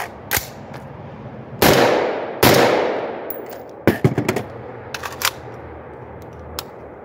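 An AR-15 rifle with an ambidextrous bolt catch fires 45 grain bullets outdoors: two loud, sharp shots with ringing decay, then a quick cluster of lighter metallic clacks and handling clicks.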